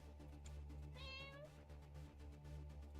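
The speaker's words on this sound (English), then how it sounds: "Come here, kitty cat." A cat in the Minecraft video game gives one rising meow near the middle, heard over a steady background of game music and ambience.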